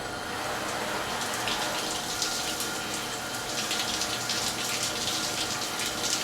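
Water runs steadily from a tap, splashing onto a leather baseball glove as it is wetted, a constant close hiss and patter with no talking.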